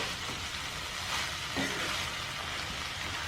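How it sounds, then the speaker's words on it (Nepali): Spiced bhutan, a Nepali fried offal dish, sizzles in a pan: a steady close hiss of frying oil with faint stirring scrapes, and no voices. "यसलाई पकाउँछु 4-5 मिनट जति यतिकै फ्राई गर्छु"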